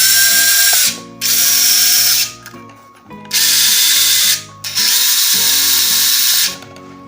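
The small motor inside a wall climber robot car whirs loudly as the toy transforms, in three separate buzzing bursts of about a second or more each, broken by brief gaps with lower mechanical grinding and ratcheting.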